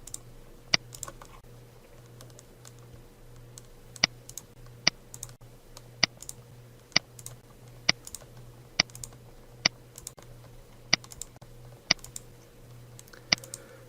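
A computer mouse clicks about a dozen times at a slow, fairly regular pace, each click sharp, close and isolated over a quiet, faintly humming room with no talking.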